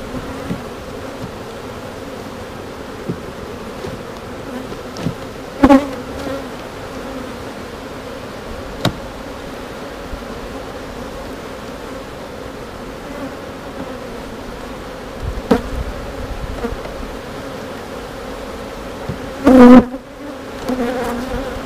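Steady low insect buzzing of many honeybees at a nucleus hive, continuous and close, with a few brief louder bumps or knocks standing out over the drone.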